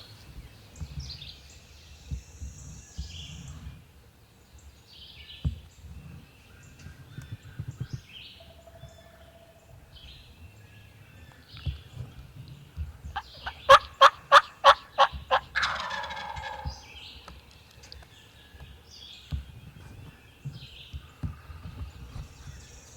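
A wild turkey gobbles on public land in Missouri during a spring hunt, with a loud rapid burst of gobbling partway through and fainter calls and rustling around it.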